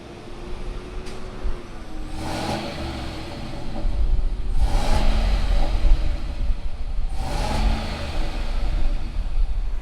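A 2019 Chevrolet Silverado Trail Boss with the 5.3-litre V8 cranks and fires, then revs up three times in loud, close bursts over a low running rumble.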